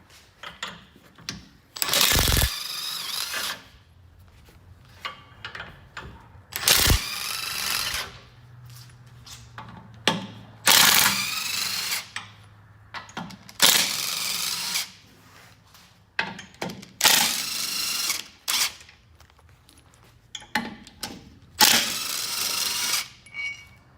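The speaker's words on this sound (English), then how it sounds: "we've got our 17mm socket and we're ready to remove the hitch and the tow hook." A ratchet with a 17mm socket loosens and removes hitch and tow hook bolts on a fifth-generation Toyota 4Runner, heard as repeated loud bursts of rapid clicking separated by short pauses, with occasional metallic clinks and no voices.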